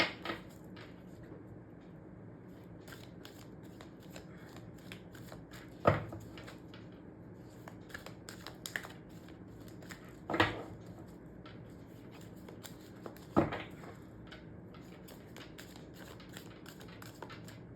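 Tarot cards are handled and drawn from a deck, leaving soft papery shuffling with a few sharper snaps as cards come off the pile, faint and close over a quiet room.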